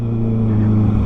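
A Honda CB650R motorcycle fitted with a Drift full exhaust runs loud and close, a deep steady engine drone that rises slightly toward the end, heard alone.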